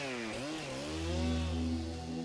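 A chainsaw cuts trees in the Amazon rainforest. Its engine drones close and loud, dipping and then revving up into a strained, steady whine as it bites into the wood.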